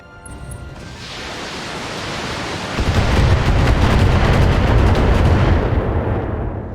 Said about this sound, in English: Those were a lot of missiles.